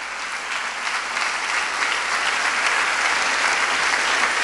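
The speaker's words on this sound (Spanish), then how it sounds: "Dele palmas al Señor." A church congregation claps together in a steady, dense round of applause, loud and continuous throughout without a break.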